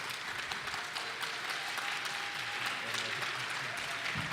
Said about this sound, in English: could you please give a round of applause to our panelists?